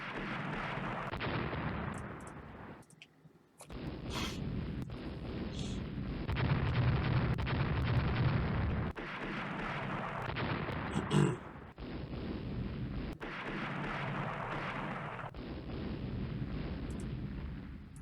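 Naval gunfire from warships in Rule the Waves, repeated heavy artillery booms spaced across the stretch at moderate loudness, separated by brief gaps and a low sustained rumble.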